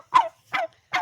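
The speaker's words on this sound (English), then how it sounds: "Ain't nothing like hanging with the chickens early in the morning." Backyard chickens cluck early in the morning: three short, close clucks evenly spaced about a third of a second apart, with quiet between them.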